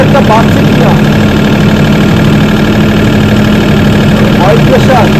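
A Mahindra 25 kVA single-phase diesel generator set runs under load with a loud, constant, steady hum close by, a low drone that does not change, with someone talking over it at times.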